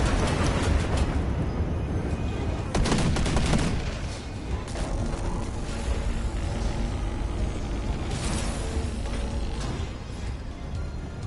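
Missile launches and swarm weapon fire in the racing combat game Pacer, a dense continuous barrage of blasts and engine roar with a heavier burst of impacts midway, loud throughout.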